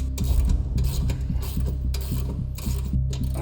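Coilover being unbolted on a BMW E30 with a hand ratchet, bursts of close, rapid clicking and metallic rasping in short repeated strokes.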